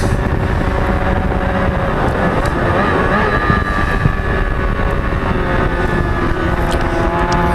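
Formula 4 race cars sweep through the back section of the Southern Downs circuit, their engines forming a loud, continuous, high-revving drone that swells and fades as the pack passes, with wind buffeting the microphone.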